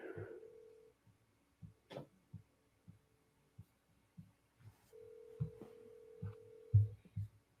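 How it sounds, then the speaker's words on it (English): A telephone rings during a call, heard as two long, steady ringback tones separated by silence, with soft rhythmic thumps underneath and no voices. "It's ringing."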